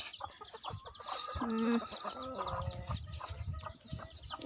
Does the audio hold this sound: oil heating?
no